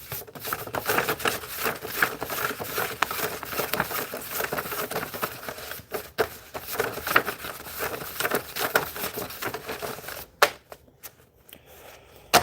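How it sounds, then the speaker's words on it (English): Sheets of printer paper folded by hand at a work table, with a steady run of dry crisp rustles and creases, close and continuous, ending in a few sharper snaps. "Paper folding."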